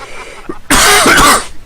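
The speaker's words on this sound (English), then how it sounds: "As if fucking fake coughing made me genuine cough." A single harsh, loud cough bursts out close to the microphone, raspy and throaty like clearing the throat, after a brief moment of quiet.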